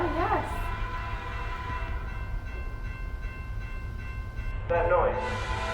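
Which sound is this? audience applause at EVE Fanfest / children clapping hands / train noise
train noise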